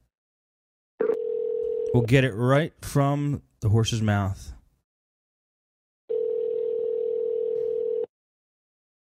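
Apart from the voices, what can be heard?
telephone ringing while calling a landline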